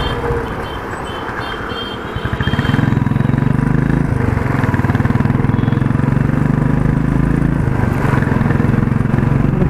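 A Royal Enfield Himalayan 450 motorcycle engine runs steadily while riding, a loud continuous low rumble that swells slightly as it pulls harder after the first couple of seconds, with wind noise over it and no talking.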